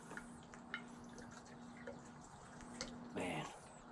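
Fuel is poured from a spout into the tank of a Generac 1200-watt portable inverter generator, faint trickling and dripping at first, then a brief, louder gush of liquid near the end.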